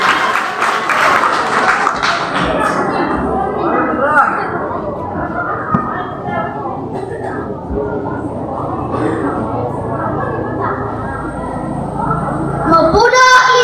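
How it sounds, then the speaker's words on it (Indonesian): Applause from the audience at a stage competition where contestants recite the Pancasila in the Sangihe language, loud clapping at first that thins and fades under a bustling room, with some voices and a sharp noise near the end. "Iya, berikan tepuk tangan kepada Adi Putra Dere."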